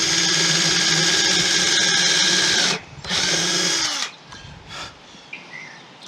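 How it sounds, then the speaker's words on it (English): A power drill drives a screw into a reclaimed-wood support for a Victorian-style bookcase, whirring steadily and loud for nearly three seconds, pausing briefly, then running again before trailing off into quieter shop sounds. "So what I'll do instead is put a screw in the middle and just glue and clamp the ends."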